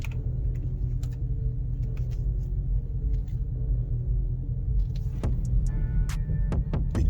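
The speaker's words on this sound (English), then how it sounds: "Big Durango SRT." A Dodge Durango SRT engine idles nearby with a deep, steady low rumble, joined near the end by a few faint clicks and taps.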